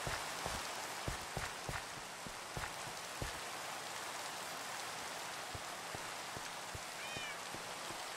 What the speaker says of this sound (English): I love Minecraft rain with shaders